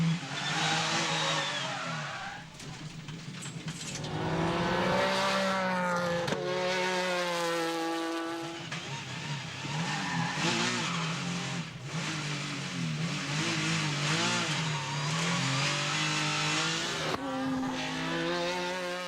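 Touring race cars from the 2005 FFSA Supertourisme series scream past at high revs. Engine notes rise and fall through gear changes, and tires squeal and skid in a continuous, loud racing din.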